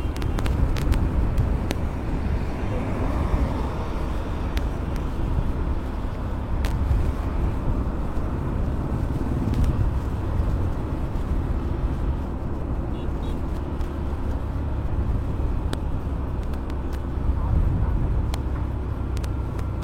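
Dense city road traffic in Pune, heard from inside a moving vehicle as a constant low rumble of engines and tyres with occasional faint horns, steady and loud, while a voice talks over it.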